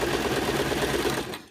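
Rapid, steady stitching from a sewing machine running around the edge of a fabric sensory maze cuff, a continuous close mechanical chatter that slows and stops near the end.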